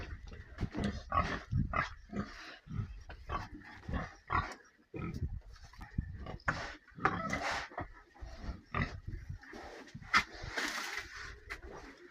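Pigs grunt and snort repeatedly at close range in an outdoor pen with mud, a busy irregular stream of short grunts with occasional louder squeals.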